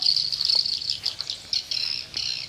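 High, rapid chirping from swiftlets fills the clip continuously, twittering overlapping calls close by with faint background hum.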